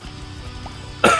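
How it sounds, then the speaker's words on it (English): A single sharp cough bursts into a close microphone at the very end, loud and brief after a quiet stretch of low background hum. "I try to mute my mic when I cough, but sometimes they just sneak out of me"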